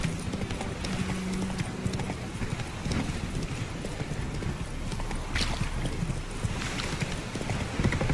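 Horse hooves clip-clop at a gallop in The Witcher 3 video game, a steady rapid rhythm of hoofbeats over outdoor wind and ambient game sound, with a brief whinny-like tone early on.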